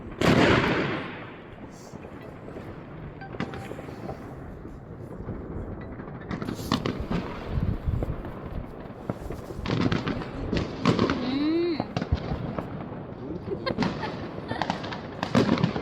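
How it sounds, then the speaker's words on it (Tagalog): New Year's fireworks burst repeatedly at a distance, a string of booms and crackles at irregular intervals, with a faint whistle rising partway through and occasional voices. "Yun, magandang fireworks."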